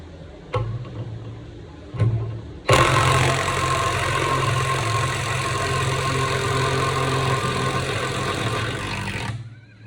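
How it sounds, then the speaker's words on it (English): A Dewalt DCF891 impact wrench with a 24mm socket on a Loctited handbrake nut, two short trigger blips, then a long continuous loud hammering rattle for about seven seconds before stopping. "This is the Dewalt DCF891 with a 24mm on it"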